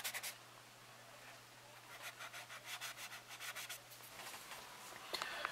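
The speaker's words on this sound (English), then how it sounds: "let me just continue to rub the surface just gently and see if this takes off that discolored part" A discolored spot on a 1/72 Italeri SR-71 Blackbird plastic model kit, coated in gloss and flat matte, is gently rubbed in a run of rhythmic, close, soft scrubbing strokes over a faint hum.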